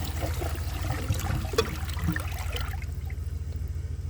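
A 2018 American Standard Townsend Vormax toilet with a dish towel in the bowl flushes, water rushing and gurgling for a few seconds before fading to a quieter trickle.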